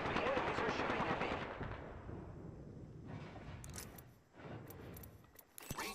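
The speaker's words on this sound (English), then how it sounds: "The enemies are shooting at me." Gunfire in Apex Legends crackles in a dense, loud burst of rapid shots for about a second and a half, then trails off into quieter scattered shots and clicks over faint game sound.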